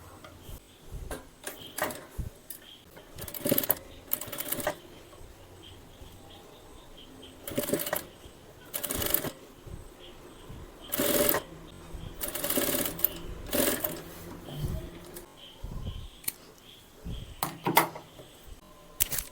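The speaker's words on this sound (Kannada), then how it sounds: "ಸೈಡಿಗೆ ಈ ರೀತಿ ಸೆಟ್ ಮಾಡಿ ಮತ್ತು ನಾವು ಸ್ಟಿಚ್ ಮಾಡುವ" An electric sewing machine stitches a frock in repeated bursts, its fast needle chatter starting and stopping in short runs with quiet handling pauses between, fairly close and alone.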